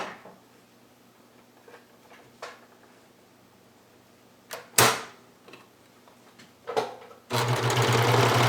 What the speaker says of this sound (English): we're going to start with the hood, sewing along the long curved side